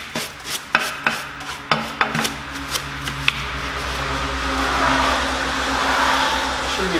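A medium-stiff bristle brush scrubs the inside of a wet Ford Focus ST wheel, with a series of sharp scraping strokes giving way to a steady, louder rubbing swish, close up with no talking.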